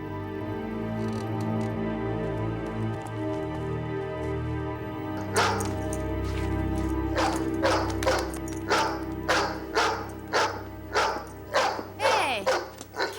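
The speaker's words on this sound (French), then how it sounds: "Qu'est-ce que t'as à aboyer comme ça?" A dog barks repeatedly, a series of loud, close, sharp barks in an irregular rhythm over a humming musical background, following a stretch without barking.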